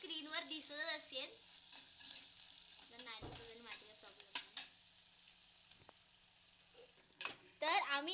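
Food frying in a pan is stirred after salt goes in, with scraping and clinking of the spoon in bursts over a faint sizzle, while someone talks throughout.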